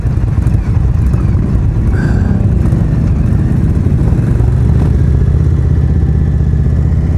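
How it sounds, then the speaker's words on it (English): An Indian Springfield Dark Horse motorcycle idles steadily, its engine giving a continuous low, even rumble that stays loud and close throughout with no voices over it. "I could live with this idle."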